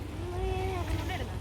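A fishing boat engine drones low and steady on the water, with a faint wavering tone and voices murmuring in the background.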